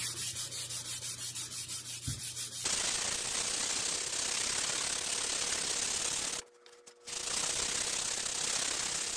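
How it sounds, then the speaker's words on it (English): A musket stock is hand sanded with 220 grit sandpaper in steady, rapid back-and-forth strokes, first rhythmic, then a continuous loud rasp broken by one brief pause. "I think I'll sand a little more to 220 before I move to 400."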